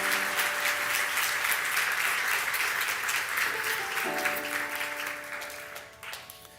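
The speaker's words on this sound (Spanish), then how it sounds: "Denle un aplauso, Señor." Congregation in a church applauding for several seconds, a dense steady wash of clapping with some sustained organ or keyboard tones underneath, tapering slightly toward the end.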